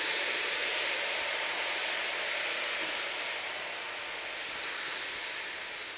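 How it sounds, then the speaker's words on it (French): Straw-cut potatoes dropped into a deep oil bath at 180 degrees, giving a loud, steady broadband sizzle and hiss that runs continuously and eases slightly toward the end. "les plonger dans un bain de friture à 180 degrés"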